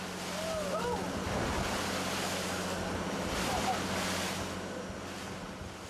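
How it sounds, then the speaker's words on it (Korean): Big waves on a vast, rough river in Vietnam slap and wash steadily against a boat, with loud broadband rushing water and wind buffeting the microphone throughout, a faint voice briefly audible. "큰 파도가 거침없이 밀려들어 똑바로 서 있기가 힘들 정도였습니다"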